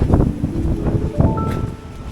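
Strong gusting wind on Madeira buffets the microphone in a loud, rumbling roar, with a faint tonal whine rising near the end.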